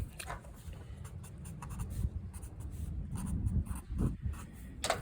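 Marker or chalk writing on a board during a maths lesson, with close scratchy strokes and taps that come in uneven bursts, fairly quiet and without talk.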